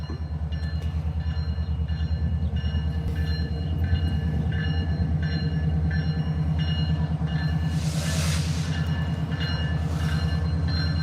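A diesel freight locomotive, GP20C Eco, rumbles past close by, its low engine throb steady throughout, with a brief hiss of air midway and no talking.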